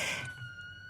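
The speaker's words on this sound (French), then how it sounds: "La sirène, c'est dans le... oui, d'accord, c'est dans la chanson." A siren effect within a song played on the radio, a brief wailing tone that fades quickly under a low, quiet music bed.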